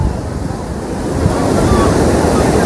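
Big sea waves surge and break continuously on the beach at Puri during days of heavy rain, a loud, broad roar with gusty wind noise that builds slightly toward the end.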